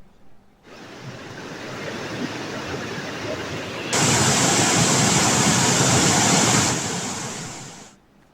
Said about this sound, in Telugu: బోగతా జలపాతానికి వరద ప్రవాహం పెరగ్గా బోగతా జలపాతం పరవళ్లు తొక్కుతుంది.